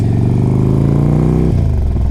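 A 2006 Harley-Davidson Street Glide CVO with an upgraded 103 cubic inch Screaming Eagle engine revs loud and close, holding a steady throaty rumble before the pitch drops sharply as the throttle closes.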